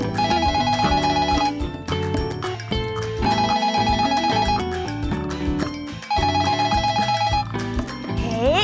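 A telephone rings in a loud, melodic ringtone, with phrases repeating in three bursts separated by brief dips, bright and close with no talk over it.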